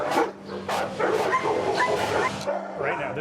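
Dogs in animal shelter kennels barking, yipping and whimpering in a busy overlapping chorus, close and loud, with human voices mixed in.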